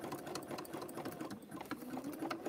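An old sewing machine running steadily on its own, a continuous mechanical whir with a fast rhythmic stitching clatter, close and fairly quiet, without any talk.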